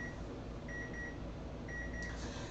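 A kitchen timer beeps in short repeated bursts, two quick sets of clear, steady electronic tones over a low background hum, with no one speaking.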